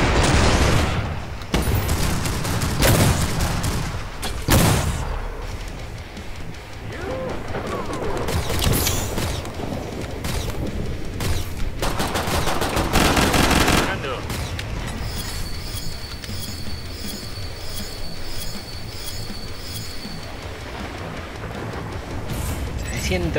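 Rapid gunfire and explosions fill a Killing Floor 2 match, with dense bursts and booms throughout, heavy bangs early on, and a player talking over the action.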